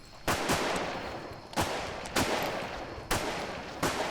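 Machine gun fire in the military video game Arma 3, several loud close bursts spaced about a second apart, each trailing off in a long echoing tail, with no voices.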